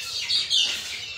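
Native chickens cluck at a poultry farm in two or three quick, close, high-pitched calls in a brief burst, with no talk.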